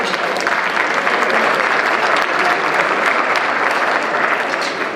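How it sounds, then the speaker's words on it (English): A gala awards audience honoring Turkish Airlines Star Partners of Houston breaks into dense, steady applause, a loud wash of many hands clapping without pause from start to finish. "So please, everyone, a hearty round of applause for all of our honorees this evening."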